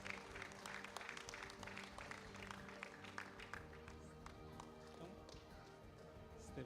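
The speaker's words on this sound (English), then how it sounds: "Let's give a round of applause." A crowd at a graduation ceremony claps steadily for a graduate, the dense mix of many hands continuing throughout at an even, moderately loud level.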